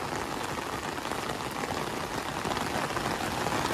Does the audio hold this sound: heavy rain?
yes